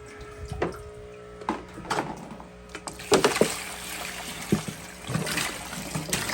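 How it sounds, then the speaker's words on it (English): Fish tank water poured from a jug and dumped out a window, with intermittent splashes and trickles, clunks of the container, and quiet gaps between pours, heard fairly close. "Just kind of fill that up and dump that out the window."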